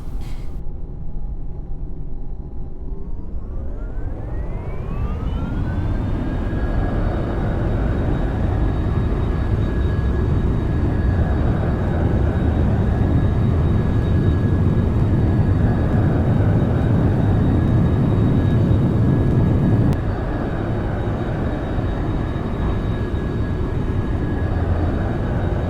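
A simulated airplane takes off in the X-Plane 11 flight simulator game: the engine whine climbs steeply in pitch, then holds as a steady, loud roar with a continuous rumble underneath, and no one speaks.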